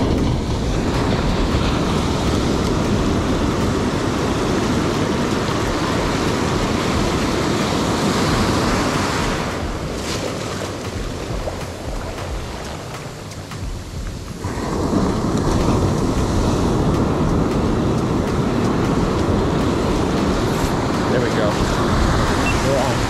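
Ocean surf breaks continuously on a beach during a fishing session from shore, with a loud, broad roar of crashing waves that eases briefly midway and then swells back up.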